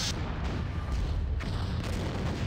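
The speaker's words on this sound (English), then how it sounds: "is this explosion going to deck us?" An explosion in a Star Trek starship battle video game rumbles as a deep, sustained boom with crackling texture, loud and close, filling the whole moment without voices.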